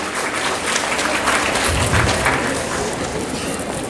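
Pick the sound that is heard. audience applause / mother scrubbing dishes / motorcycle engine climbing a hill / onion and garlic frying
audience applause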